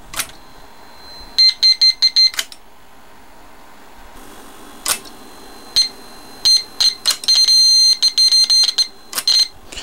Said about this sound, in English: when I turn the amplifier on and I get my old pal, the signal injector